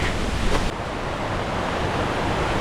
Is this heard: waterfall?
yes